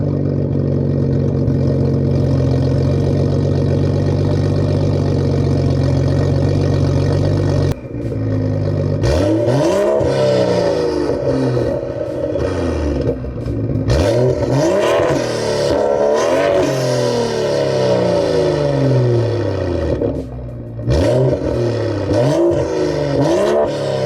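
A BMW 435i with a full straight-pipe exhaust, catless downpipe and resonator and muffler deleted, idles with a loud, steady rumble, then is blipped through a series of sharp, rising revs that fall back to idle, close and alone.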